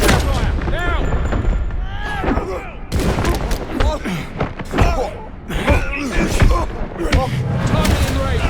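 Gunfire in the video game 007 First Light comes as loud bursts of shots and booming impacts in a chaotic firefight, mixed with shouting voices.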